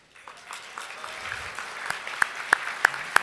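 Audience at the Utah Business 2024 CEO of the Year Awards breaks into scattered applause that swells gradually, with a few louder, sharper claps standing out near the end.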